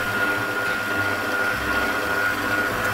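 Electric hand mixer beating chocolate cake batter, a steady, fairly loud whirring motor hum that holds level for the whole few seconds with no talking.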